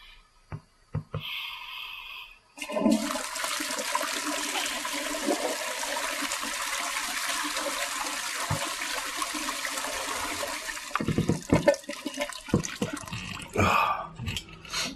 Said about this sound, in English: woken up by an incredibly poorly integrated toilet flushing sound effect